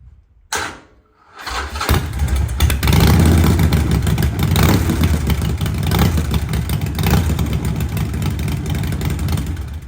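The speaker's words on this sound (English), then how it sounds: "Just going to give the engine a turn over, just let it run for a second" A 2019 Harley-Davidson Sportster 48 Special cranks over briefly, catches and settles into a loud, rough, throbbing run close by, holding steady for several seconds.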